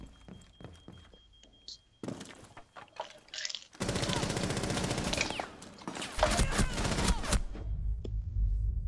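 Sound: gunfire in video game Rainbow Six Siege

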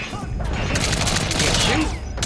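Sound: gunfire in the video game Metal Gear Solid V

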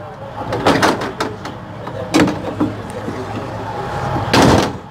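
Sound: Prevost bus doors opening and closing

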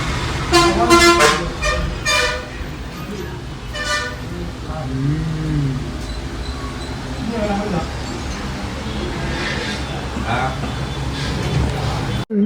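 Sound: bus going to Ooty passing and honking

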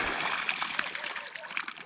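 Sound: splashing water as caught crucian carp are taken out

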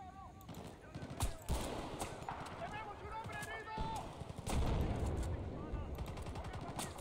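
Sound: gunfire from the video game Battlefield Bad Company 2

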